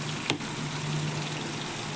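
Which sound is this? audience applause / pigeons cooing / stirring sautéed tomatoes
stirring sautéed tomatoes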